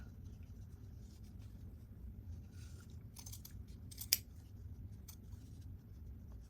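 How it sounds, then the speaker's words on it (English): Scissors snipping to cut out letters, heard as a few faint, quick clicking snips clustered together against a quiet room background, with one sharper cut standing out. "I just kind of fold it and make a snip just to get in the middle there"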